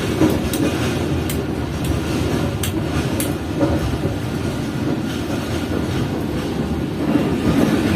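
A Pakistan Railways Khyber train's AC sleeper coach runs on the way to Multan: a loud, continuous interior rumble with periodic clickety-clack wheel knocks over the rails and no voices.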